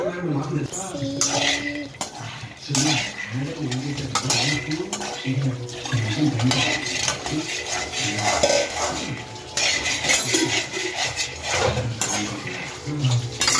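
Peanuts are stirred in a kadai for peanut laddu, making continuous scraping and rattling of a spoon against the metal pan, close and fairly busy throughout, with a voice speaking intermittently.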